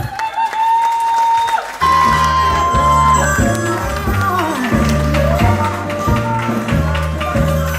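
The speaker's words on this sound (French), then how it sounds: "on peut encore l'applaudir" A crowd claps and cheers over rhythmic music at a guinguette beauty pageant in Harmignies, Belgium, the applause steady and lively throughout.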